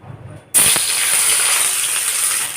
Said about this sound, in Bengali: এখন মাছ ভাজার এই তেলেতেই পেঁয়াজগুলোকে দিয়ে দেব